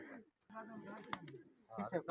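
Pigeons coo nearby in soft, low, rolling phrases broken by short pauses, with a voice speaking alongside them.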